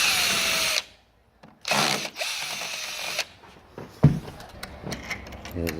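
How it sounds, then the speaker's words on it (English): A power screwdriver whirs in short bursts while face screws are backed out of an old 001 door closer on double doors of an 1860s–70s historic building, with pauses and small clicks between runs. "just a matter of taking these face screws out"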